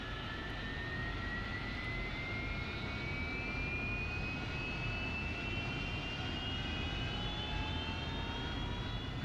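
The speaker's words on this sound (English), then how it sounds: "we now have engine start" A RAZBAM AV-8B Harrier II jet engine in the DCS World flight simulator runs steadily after start, a continuous turbine roar with a rising high whine, heard alone throughout.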